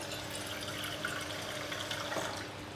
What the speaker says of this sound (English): we'll need a little bit of water to kind of blend this down with